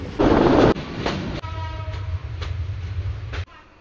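Train running on the Parbatipur to Kurigram line in Bangladesh, a loud rumbling rush with rattling wagons and steady clickety-clack, heard close up from on board with no talk.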